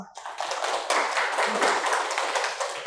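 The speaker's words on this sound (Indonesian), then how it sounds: "Tepuk tangan dong." A classroom audience claps after a student's presentation, a dense burst of hand claps lasting a few seconds at steady loudness, with no voices.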